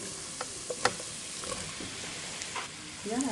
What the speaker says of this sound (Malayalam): ഇനി ഇതേ നെയ്യിൽ തന്നെ മസാലയ്ക്കുള്ള ഇഞ്ചി വെളുത്തുള്ളി പച്ചമുളക് ഇട്ട് കൊടുക്കാം ചെറുതായി വഴറ്റി കൊടുക്കാം